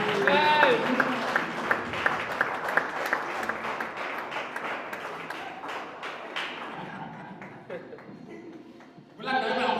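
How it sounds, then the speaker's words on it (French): A crowd at a spiritual gathering bursts into loud, dense applause with cheering, tapering off after several seconds before a voice resumes at the end. "Est-ce qu'on peut acclamer très fort?"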